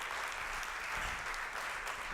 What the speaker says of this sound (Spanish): Le da ese aplauso fuerte al Señor.